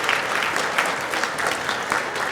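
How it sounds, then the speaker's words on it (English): Audience applause at the opening ceremonies of the 2024 World's Fair of Money in Chicago, honoring past presidents: steady, dense clapping from a large crowd, even and sustained throughout with no voices above it. "Let's give them past presidents a round of applause."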